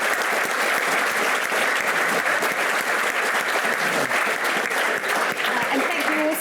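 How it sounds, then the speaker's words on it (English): Audience at a pre-election debate on foreign policy gives the panel sustained applause, a dense steady wash of clapping filling the room from start to finish. "please give a round of applause to the panel"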